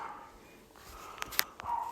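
Two small dogs yap in short sharp bursts a little way off, with a few quick barks clustered near the end over a low background hum.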